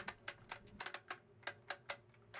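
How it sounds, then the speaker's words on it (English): A Lego-built timer's ratchet, driven by a differential and a pendulum clock escapement, gives off a quick series of crisp, close plastic clicks in an uneven rhythm. "The ratchet that is attached to that differential is what makes the clicking noise."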